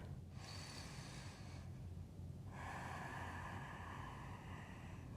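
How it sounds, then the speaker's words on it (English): A deep breath taken during a myofascial release practice, heard as two broad airy swells of inhalation and exhalation separated by a brief pause, close and steady with no talking. "So one more big breath here."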